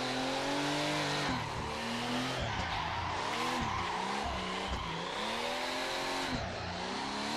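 A car drifts around a circuit in the racing game Assetto Corsa without using the handbrake, its engine revving and tires squealing in long wavering slides, loud, close and continuous throughout, with no voices.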